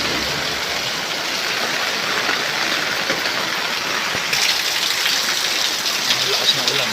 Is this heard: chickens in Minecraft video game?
no